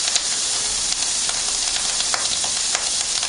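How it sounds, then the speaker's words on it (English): Diced bacon and an Italian sausage sizzle and spit steadily in a pan over very high heat, a dense continuous crackle with occasional sharper pops, close and fairly loud, with no voices. "That's just cooking away now on a very high heat."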